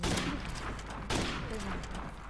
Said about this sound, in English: I know you hear that sniper